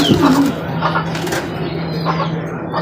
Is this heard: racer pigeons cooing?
yes